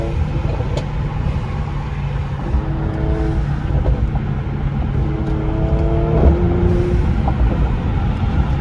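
A 2020 Mercedes-AMG C43 with the stock AMG Performance Exhaust, blow-off valves and a nine-speed automatic drives steadily with a loud, continuous low engine drone that rises slightly toward the end, with no talking.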